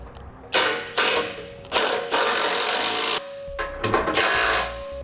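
Ratchet wrench clicking in repeated bursts while bolts are tightened on a Roadmaster crossbar-style tow base plate kit mounted to a 2013 vehicle, close and fairly loud, with short pauses between runs of rapid pawl clicks.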